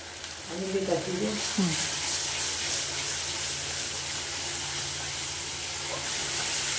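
Ground cumin and coriander sauté in a hot pan for chicken rezala, making a steady, close sizzling hiss throughout, with a brief voice near the start.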